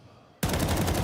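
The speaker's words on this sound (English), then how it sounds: "Warning shots, but Flame still moves forward." Warning shots in an esports shooter match: automatic gunfire bursts in suddenly after a quiet moment and continues as a loud, dense, rapid rattle.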